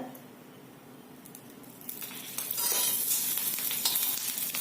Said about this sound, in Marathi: आणि परत मिरच्या आपण भाजून घ्यायचंय